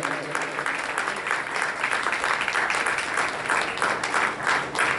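Loud, steady applause from an audience at an award ceremony for a satsang grand finale, many hands clapping densely and continuously.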